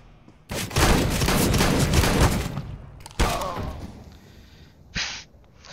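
Gunfire in Counter-Strike: Global Offensive: a loud, dense burst of shots lasts about two and a half seconds, then a second heavy volley follows after a short gap, ending with a single sharper shot.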